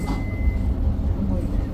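Melbourne metro train passing on the adjacent track, heard from inside a moving carriage as a steady low rumble and rolling noise throughout, with faint voices in the background.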